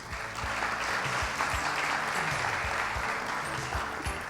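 A big round of applause at an international ODA conference in Seoul as the Korean Vice Minister of Foreign Affairs is welcomed, dense, loud and sustained clapping from a large audience.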